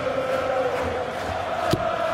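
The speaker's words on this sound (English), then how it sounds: "Crowd in a frenzy." A packed arena crowd at a World Darts Championship quarter-final roars and chants in a frenzy, a dense, steady wall of voices with tonal singing running through it and a single sharp bang near the end.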